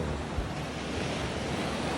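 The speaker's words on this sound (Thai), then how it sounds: "วันนี้พบกับทะเลระยองนะครับ" Sea waves at Rayong beach in Thailand, a steady broadband roar of surf washing continuously with some wind noise, loud and close with no break across the whole stretch.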